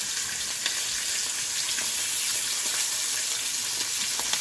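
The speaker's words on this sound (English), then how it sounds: "get that sizzle going, or as Anne Burrell calls it, get that applause going." Beef short ribs sizzling in a hot pan, a steady bright hiss with scattered pops and crackles, close and continuous with no talking.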